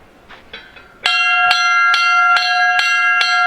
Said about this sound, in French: La cloche qui sonne, c'est pour inviter tous les potages du petit séminaire à rallier les salles de cours.